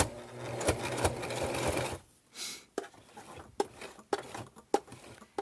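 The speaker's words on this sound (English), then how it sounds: "We're going to sew all the way to the top here." Sewing machine stitching a small mini wallet, a steady fast whirring run for about two seconds, then stops followed by short clicks and taps of handling the fabric and machine, close and fairly quiet.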